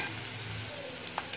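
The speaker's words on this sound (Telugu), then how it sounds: "అలాగే సన్నగా తరిగినటువంటి అల్లం, అలాగే సన్నగా తరిగినటువంటి వెల్లుల్లి వేస్తున్నాను. ఇవి బాగా ఆయిల్లో ఫ్రై చేసుకోవాలి." Finely chopped ginger and garlic frying in oil give a brief, soft, steady sizzle, fairly quiet and uninterrupted, with no speech.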